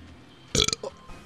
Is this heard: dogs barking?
no